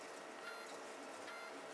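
FLSUN QQS delta 3D printer on standard stepper drivers, giving a steady faint mechanical buzz with slight pulsing from retraction moves, heard alone.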